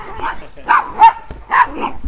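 A dog barks in three loud, close bursts spaced about half a second apart, with softer yips and whimpers between them, on a farm during a lively animal show.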